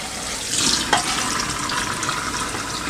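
A detachable part of a Housnat cold press juicer is rinsed under a running kitchen tap; water splashes steadily and hisses against the plastic for the whole stretch, with a brief louder gush early on.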